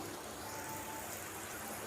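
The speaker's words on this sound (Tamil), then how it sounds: "இப்போது ஒரு கிளாஸ் அளவுக்கு தண்ணி ஊற்றிக்கலாம் வெண்டைக்காய் வேகிற அளவுக்கு" Water poured into a pot of okra for sambar makes a steady, continuous splashing rush that holds at an even level for about two seconds.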